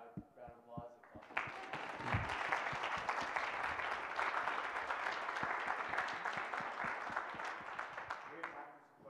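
A room of listeners breaks into a sustained round of clapping at the close of a sustainability showcase talk, swelling quickly and holding steady as a dense wash before tapering off, with faint voices underneath.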